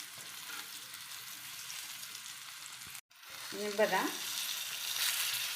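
Fish pieces fry in oil in a home kitchen pan with a steady hiss and crackle that drops out briefly, then comes back louder and brighter as a voice speaks a short word.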